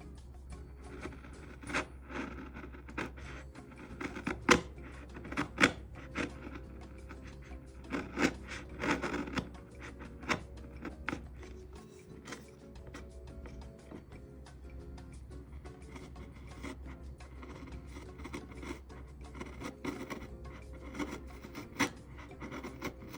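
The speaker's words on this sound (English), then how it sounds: "And I'll go across the grain using an incredibly sharp chisel that is wider than that pin wall." A very sharp chisel, wider than the pin wall, pares wood across the grain while joints for a blanket chest are fitted, giving repeated scraping and rasping strokes with short crisp peaks over a low steady hum.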